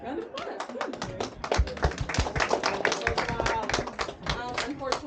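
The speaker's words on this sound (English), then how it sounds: "All right, round of applause for the answer, tree" A live audience claps a round of applause for a participant's answer at a California tourist spot, with dense overlapping handclaps steady and close for several seconds.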